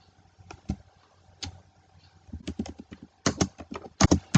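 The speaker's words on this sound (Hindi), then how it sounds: "तो यहाँ पे मैं टाइप कर देती हूँ" Keys clatter on a computer keyboard while a comment is typed, with sparse clicks at first that speed into quicker bursts of taps, close and fairly clear, with no voices.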